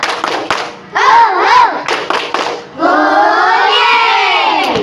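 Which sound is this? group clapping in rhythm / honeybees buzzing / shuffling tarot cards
group clapping in rhythm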